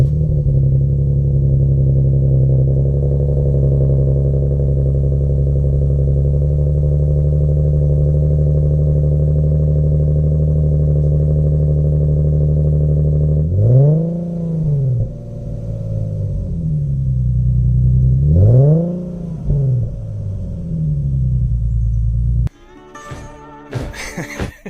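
Engine of a two-seat sports car with a six-speed manual, a loud steady drone that swells into several rising-and-falling revs as gears change, ending in a clattering burst.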